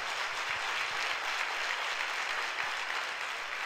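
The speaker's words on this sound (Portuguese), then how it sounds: "Então dá um aplauso para o Senhor." A church congregation applauding together, a steady wash of dense clapping that holds at an even level from start to finish with no voices standing out.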